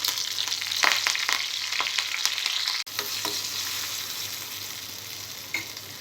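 Mustard-type tempering seeds, garlic and dried red chillies fry in hot oil, giving a steady close sizzle with a few crackles and pops that ease off slightly partway through. No one speaks.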